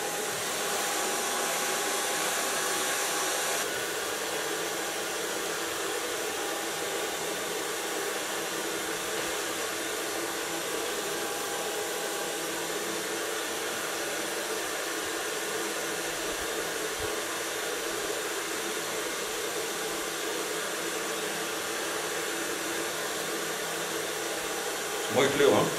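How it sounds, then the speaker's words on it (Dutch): A hair dryer blow-drying short hair with a brush blows in a steady, loud, continuous whoosh for the whole stretch, with a slight change in tone early on and no talking. "I can dry it much easier with a brush than without a brush."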